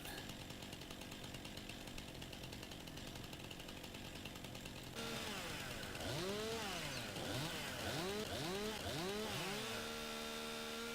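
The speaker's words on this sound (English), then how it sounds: "As bad as the chainsaw was in 17, this is worse." Chainsaw cutting trees in the video game Farming Simulator 2019, a steady engine drone that rises into repeated revving whines as the saw bites in, close and continuous with no talking.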